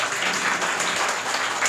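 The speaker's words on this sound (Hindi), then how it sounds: "इसके लिए ज़ोरदार तालियाँ होना चाहिए।" Audience at a school Teachers' Day program and speech competition, applauding in a steady wash of many hands clapping at once, fairly loud and sustained throughout.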